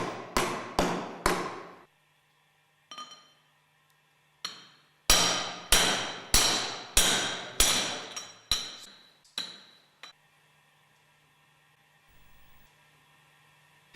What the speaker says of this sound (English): Carefully drive the groove ball bearing with a suitable pipe up to the distance bush.